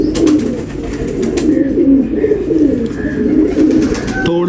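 A pigeon kept by a pigeon fancier coos close by in a loud, steady series of low throaty warbles, repeating rhythmically over several seconds with faint background noise and a brief knock at the end.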